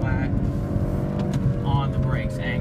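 BMW car accelerating flat out on a track, a steady loud engine drone from inside the cabin with someone talking over it.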